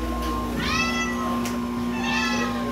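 A cat meows twice, drawn-out calls about a second apart, heard over a steady electrical hum in a quiet indoor room.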